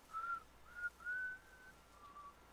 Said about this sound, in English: That's the song that we whistle to BB.